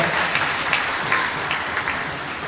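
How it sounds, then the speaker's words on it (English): A crowd at a political party's Christmas dinner and awards program gives Dr. Munilal a round of applause, dense and steady clapping for a few seconds. "Please give Dr. Munilal another round of applause."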